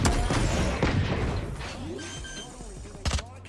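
Satchel charge going off in a tactical shooter match: a loud opening blast with rumbling aftershocks, then a sharp second thud near the end amid scattered gunfire.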